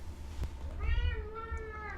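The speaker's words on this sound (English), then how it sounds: "Your cat is a very needy cat." A needy house cat meows once near the microphone, a drawn-out rising and falling call heard over a steady low hum from a gaming setup.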